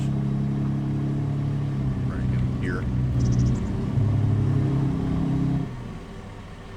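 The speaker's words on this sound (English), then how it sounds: "why do I hear an engine running?" A car engine idles with a steady low drone in Farming Simulator 25, running beneath a speaking voice before dropping to a quieter hum near the end.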